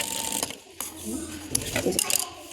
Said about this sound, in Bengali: সেলাইটা করে নিই।